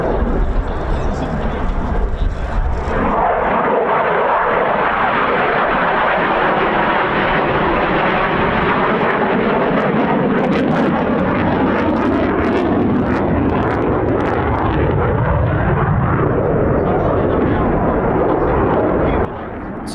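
F-16 fighter jet performing aerobatics at the RAF Cosford Air Show, a loud continuous roaring jet engine noise with rumbling swells, sustained for the whole stretch with possible commentary underneath.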